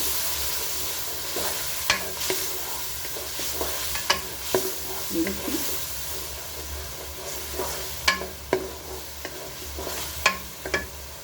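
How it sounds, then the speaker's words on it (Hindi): Garlic and ginger paste fries in a pot for an Afghani pulao, with a soft steady sizzle under repeated sharp scrapes and clinks of a spoon stirring, close and unhurried, with no talking. "अच्छी तरह से भूनते हैं।"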